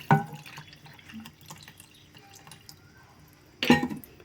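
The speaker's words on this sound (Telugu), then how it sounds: "చింతపండు పులుసు కూడా పోసుకుందాం." Soaked tamarind extract poured into a pot of moong dal soup, two short splashy pours of liquid at the start and end with quiet kitchen sounds between, close.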